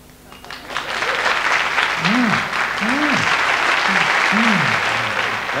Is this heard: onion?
no